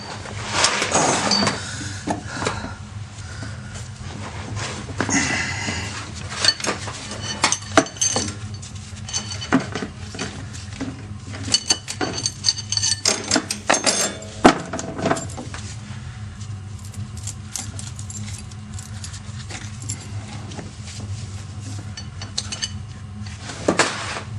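A chain wrench worked on a Mahindra 2638 tractor during a 50-hour service, with repeated metallic clinks, rattles and chain jangles, irregular and close up, continuing throughout with no talk.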